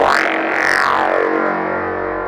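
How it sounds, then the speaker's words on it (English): A heavily distorted hardstyle kick drum sounds once with a harsh, harmonic-rich, screeching attack and a sustained gritty tail, heard alone and loud. "when you start boosting it and adding more distortion to it"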